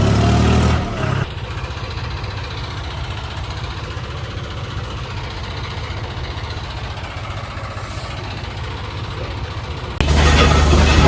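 A tractor engine idles at a weighbridge, a steady, even rumble that holds for most of the stretch, with louder, harsher bursts at the start and near the end.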